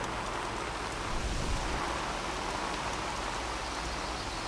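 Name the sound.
rain in video game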